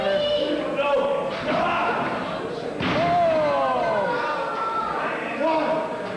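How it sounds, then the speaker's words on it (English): A wrestler is slammed onto the ring mat with a death valley driver, one heavy thud amid a noisy crowd, while a commentator shouts excitedly. "Oh, gets him in a death valley driver."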